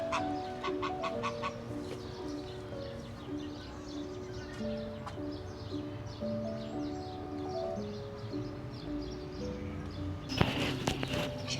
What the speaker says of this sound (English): Oh, the geese are awake.